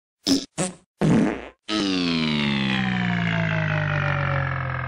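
A comedic fart sound effect: three short sputtering blasts, then a long, loud, drawn-out fart whose pitch slowly sinks as it stretches on, with no talking.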